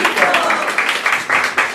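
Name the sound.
congregation applauding in church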